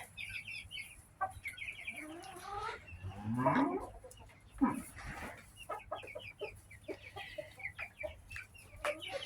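Backyard chickens cluck and chatter close by in a coop, with a mix of short clucks and a few longer squawking calls scattered across several seconds and no talking over them.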